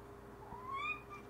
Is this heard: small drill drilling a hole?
no